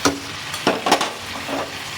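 Chicken pieces stirred and fried in a pan, a soft sizzle broken by a few scraping stirs, close and moderate in volume.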